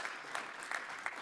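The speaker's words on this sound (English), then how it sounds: "big round of applause, please, for Fiona Howarth" Conference audience at an electric-vehicle summit applauding a speaker, a brief stretch of moderately quiet clapping with a few sharper claps standing out.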